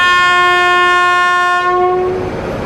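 The Durg–Nautanwa Express sounds a loud, sustained horn at close range as it passes, the blast holding steady before fading out amid the rumble of the train.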